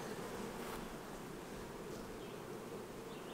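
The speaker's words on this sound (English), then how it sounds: "So I'm seeing a lot of young fuzzy bees on this." Honey bees buzzing steadily on a hive frame during a summer split, a dense continuous drone close by with no talking.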